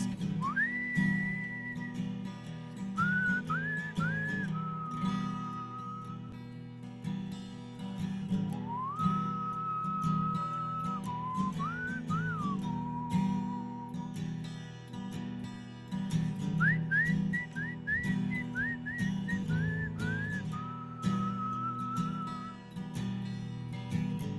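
A person whistles a slow, wavering melody in phrases, clear and close, over a steady low hum, with pauses between the whistled lines, during a stage performance at a mountain opry.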